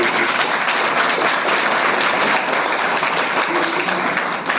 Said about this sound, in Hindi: मैडम के लिए एक ताली बजा करके बहुत धन्यवाद